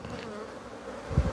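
Aggressive killer bees buzz in a steady, close drone around a hive, joined by a louder low thump near the end, with no voices.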